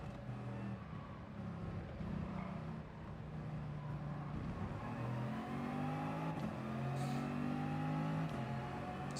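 Race car engine in the Gran Turismo racing game, revving and shifting through gears on a track, with rising and falling engine tones that are steady and moderately loud, and no talking.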